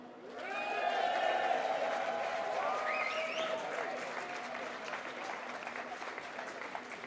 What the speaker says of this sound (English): Cheer her on.